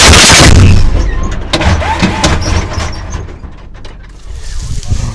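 A tank gun fires a single loud, close blast, followed by a rumbling roar and clattering mechanical noise that slowly fades.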